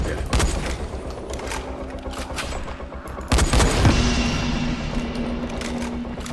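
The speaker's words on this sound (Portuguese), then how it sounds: "Eu espero que eu dei alguns tiros na Jade daqui" Gunfire in the video game Dying Light crackles in rapid bursts and single shots, dense at first, then a sharper heavy blast followed by a lingering ringing tone, with no one speaking.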